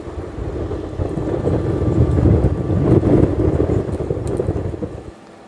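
Wind blows across an open cruise ship deck in a steady, loud rumbling gust that swells toward the middle, then cuts off abruptly near the end.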